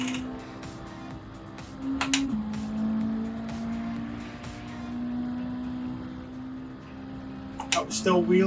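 A 1987 Honda Civic Si EF in Gran Turismo 7 strains with wheelspin, its engine holding a steady high drone that drops with a gear change, then surges again near the end, loud and close.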